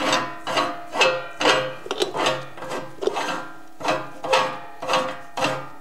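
A Landig WD 300 meat grinder being screwed back together by hand after a spacer ring is fitted, giving a steady series of close, rhythmic rasping turns, roughly two per second.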